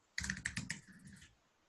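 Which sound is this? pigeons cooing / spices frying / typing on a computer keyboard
typing on a computer keyboard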